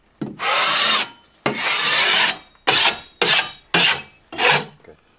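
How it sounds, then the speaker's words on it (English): A drywall knife scrapes dried joint compound off drywall tape in five long, rough, rasping strokes, loud and close, each stroke separated by a short pause, with no voices. "just simply with your knife, you just scrape it, go like this."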